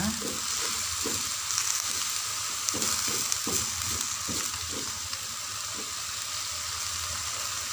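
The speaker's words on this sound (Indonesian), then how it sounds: "Kita aduk, diaduk-aduk hingga merata." A pan of salted turmeric leaves sizzles loudly and steadily while being stirred, with rhythmic scraping and tossing sounds through the first half that thin out later, and no talking.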